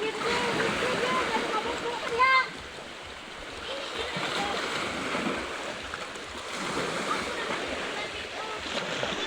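Calm sea waves wash gently and continuously against the shore beneath steady wind noise, with a brief splash near the start and a voice talking over the water.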